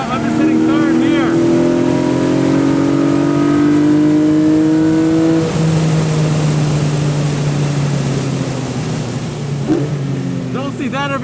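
A Porsche 718 Boxster GTS 4.0 on a racetrack sends out a loud, close engine note with sustained tones that climb steadily through a gear. Someone talks over the engine throughout.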